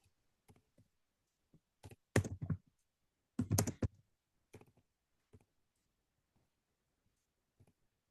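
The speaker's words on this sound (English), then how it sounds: "Hold on, I'm typing in the thing." Someone types on a computer keyboard nearby in sparse, irregular clicks and short quick bursts, separated by quiet pauses.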